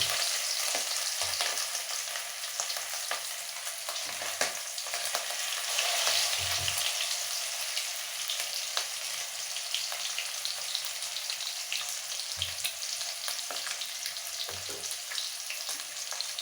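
Pieces of fish fry in hot oil over a high flame for a fish and cauliflower curry, a steady close hiss and crackle of sizzling that runs throughout, with occasional low thumps from stirring or turning and no voices.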